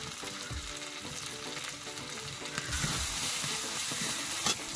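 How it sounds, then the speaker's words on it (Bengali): Spices fried with ginger-garlic paste and turmeric for a pea ghugni crackle in hot oil, a dense, steady sizzle close up with soft scraping stirs and a brighter burst of frying partway through. "মশলা কষানো হয়েছে, কষা মশলায় হলুদ দিয়ে দিব।"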